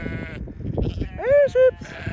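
A sheep bleats twice in quick succession on a snowy homestead farm during a cold blizzard, clear and close, following a person's brief call to the flock.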